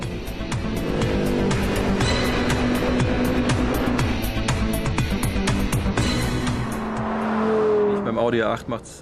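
Audi R8 V10 plus sports car accelerating hard, 0 to 100 km/h in 3.5 seconds, its V10 engine roaring loudly through rising gear sweeps, with a narrator speaking over the engine noise throughout.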